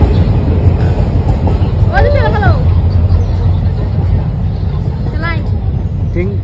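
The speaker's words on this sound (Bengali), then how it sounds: "ট্রেনটাকে ধর তো।" Loud, steady rumble and rattle of a passing train, with no breaks, heard up close, and brief voices calling out over the noise.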